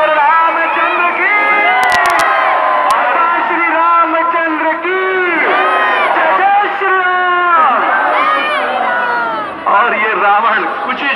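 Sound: crowd clapping and cheering at Dussehra

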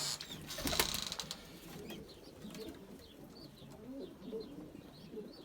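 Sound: young tumbler pigeons cooing in a breeding coop

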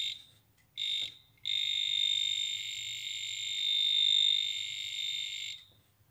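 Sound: cable tester beeping while tracing a broken power cable

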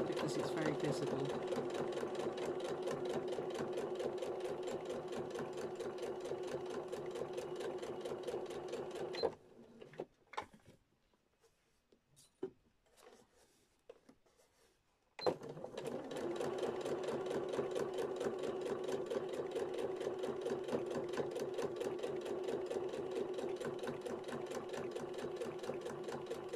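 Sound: sewing machine stitching vinyl project bag

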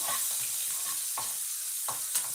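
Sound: onions sautéing in a pan until brown

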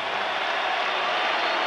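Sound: applause for boxer Bert Cooper after the fight

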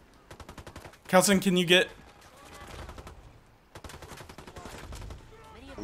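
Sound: gunfire in the video game Ghost Recon Wildlands

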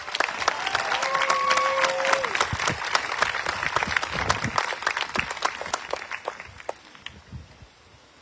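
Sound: audience applause for the American Legion Color Guard

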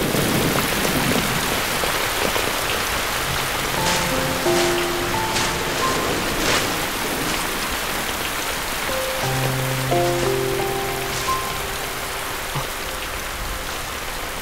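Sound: rain falling

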